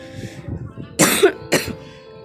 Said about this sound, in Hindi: सॉरी गाइस, खांसी हो रही है मुझे।